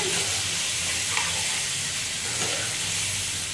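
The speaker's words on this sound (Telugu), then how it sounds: "10 నిమిషాల వరకు ఫ్రై చేసుకోండి" Chicken pieces fry in hot oil for a gonguura gravy curry, giving a loud, dense, continuous sizzle and hiss that holds steady throughout with no voices.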